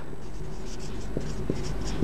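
Marker or chalk scratches across a board during an accounting lesson, forming short strokes under a steady room hum and faint background voice.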